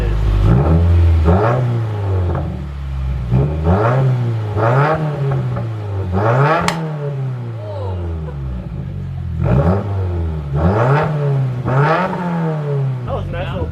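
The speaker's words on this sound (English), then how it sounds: "That was a nice little pop right there" A Subaru WRX with a cheap aftermarket exhaust revs repeatedly from a cold start, each throttle blip rising and falling in a raspy roar, with a sharp exhaust pop near the middle; voices talk between revs.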